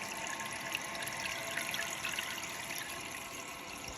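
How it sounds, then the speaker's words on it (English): Water flowing back into a toilet tank after a flapper repair, a continuous hissing trickle and rush of refilling water, steady and close with no talking. "Let's go ahead, turn the water back on, and see how she holds up."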